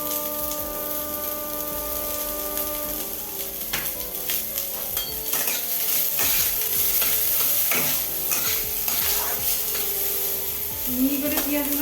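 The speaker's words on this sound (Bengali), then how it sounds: "পেঁয়াজ কুচিগুলো দিয়ে দিচ্ছি।" Chopped onions frying in a pan for an egg devil snack, a continuous sizzle with repeated scrapes of a stirring spoon, close and fairly loud, with a tonal background hum.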